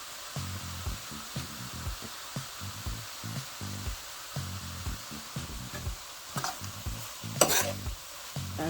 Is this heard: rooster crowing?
no